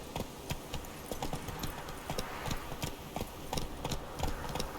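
Horse hooves clip-clopping at a steady galloping rhythm in The Witcher video game, repeated close, loud beats over a busy game background with no talk.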